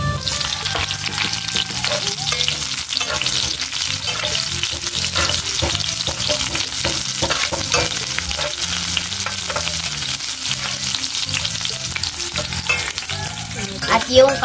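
Onions sautéing in a pan for pinakbet, a loud continuous sizzle and crackle close up, with steady stirring and scraping throughout and no voices.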